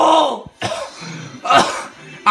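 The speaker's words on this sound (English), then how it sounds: "I have a cough." A few sharp, close coughs and throat clearing from a person during a football video-game pack opening, breaking up ongoing talk.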